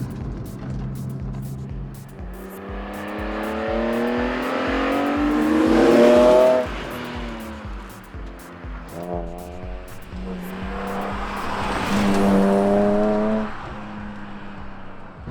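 A BMW race car with a 2000s-era setup cornering and changing direction, its engine revving up and down through shifts in two loud surges with faint tire noise, no talk.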